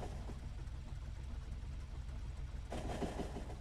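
A train in the video game Factorio runs with a steady low rumble and hum that grows slightly fuller and louder near the end, with no voices.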